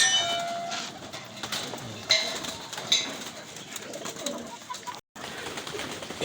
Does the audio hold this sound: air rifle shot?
no